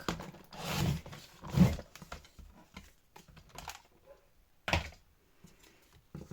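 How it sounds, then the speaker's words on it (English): A paper trimmer slices along a pencil mark on craft paper, giving short scraping bursts and soft clicks with quiet gaps between, close by and fairly faint. "So let's grab the trimmer."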